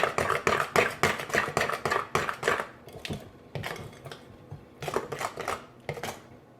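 Farina bread batter with milk, oil and egg is stirred briskly in a bowl, a rapid steady series of scraping, knocking strokes with brief pauses, close and fairly loud, with no talk.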